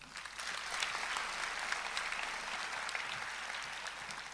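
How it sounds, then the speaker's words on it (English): Audience at a school convocation claps in a dense, sustained round of applause, steady and fairly distant, with no speech over it. "Shall we do a big round of applause?"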